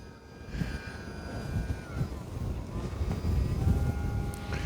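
A Hobby Zone AeroScout RC plane's electric motor drones steadily in strong outdoor wind, with buffeting gusts over a faint, wavering motor whine that swells toward the end.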